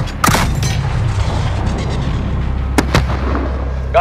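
Loud booms and blasts ring out during a night firefight in Call of Duty Modern Warfare, with two sharp impacts standing out over a continuous low rumble of battle noise.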